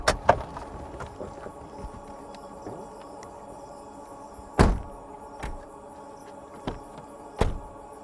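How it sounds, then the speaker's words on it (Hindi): Door at night opening and closing, a sharp thunk at the start, then a louder knock midway and a few softer bumps later, over faint insect chirping in a quiet outdoor setting. "दरवाज़ा"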